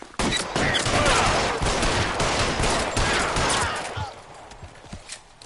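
Gunfire rattles through a shootout in the video game LA Noire, a loud, dense barrage of repeated shots over about four seconds before thinning into a few scattered, quieter pops.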